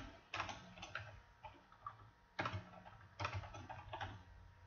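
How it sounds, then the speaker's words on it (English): Computer keyboard typing in a clinic office setting, with short bursts of clicking keystrokes separated by brief pauses, fairly quiet and close, no talking. "Simply go in and type in any name you would like to."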